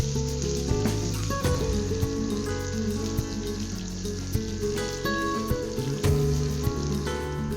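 Diced potatoes, eggplant, dried red chillies, bay leaf, five-spice seeds and green chillies fry in hot oil with turmeric and salt, a steady close sizzle punctuated by scraping, clinking stirs of a utensil in the pan.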